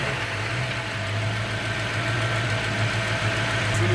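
A Ford Mustang Cobra fox body with a 5.0L V8 idles on seven cylinders, a steady low droning engine hum with a faint uneven pulse, close and continuous.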